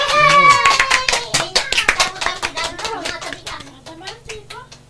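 Rapid hand clapping in a rhythmic run rises under voices in an Ilocano comedy drama scene, close and lively, with talking and a voice over the start.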